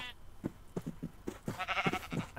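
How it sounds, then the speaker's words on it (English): Sheep bleating in a farming video game, a run of short wavering bleats repeating in quick succession, fairly loud and close, with no talking over them. "I found a lot of sheep instead."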